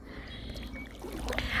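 An inflatable kayak glides across open water, the paddle giving a soft, steady wash and trickle that swells slightly toward the end, with no voices.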